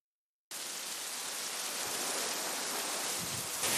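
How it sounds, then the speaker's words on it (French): Steady rain falls at the Saint-Benoît fire and rescue station on Réunion island, a dense even hiss that starts abruptly after a brief silence and holds constant, loud and close, with no voices. "la pluie vient de recommencer à tomber"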